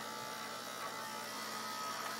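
A cheap battery-less electric shaver buzzes steadily and close up, a continuous bright motor drone with a slight rise in level near the end.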